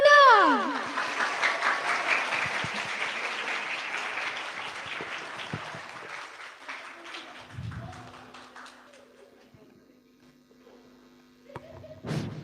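An audience of schoolchildren at an elementary school storytelling event claps loudly, the applause fading out over several seconds before a brief low hum and a few taps.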